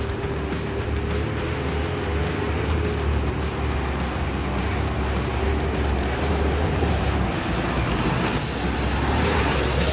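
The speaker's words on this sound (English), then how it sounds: "the engine roars fiercely, sending thick plumes of black smoke into the sky" Log truck engine roaring under heavy load while climbing a steep slope, a loud steady low rumble with a constant droning tone sustained throughout, no talk.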